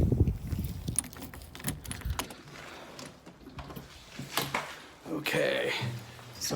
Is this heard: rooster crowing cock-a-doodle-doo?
no